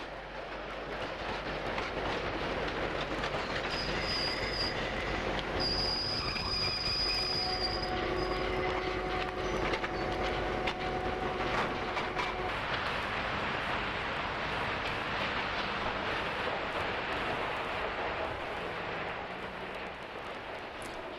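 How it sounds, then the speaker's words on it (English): A London Underground Bakerloo line train rumbles into Hatch End station and slows with squealing wheels and rattling cars, loud and continuous, with a steady electrical hum from high-voltage overhead wires throughout. "As this train arrives at Hatch End"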